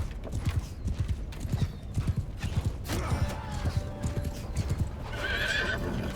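Horse in Mount & Blade II Bannerlord whinnying and neighing over steady, rhythmic clip-clop of hooves, close and loud, with busy battle noise underneath.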